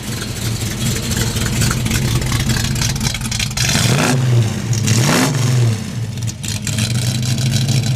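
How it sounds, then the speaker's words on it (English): A 1968 Ford Mustang's exhaust recorded up close at the rear, the engine idling with a lumpy rumble, then revved in two sharp blips that rise and fall before settling back to idle. "let you hear that exhaust note"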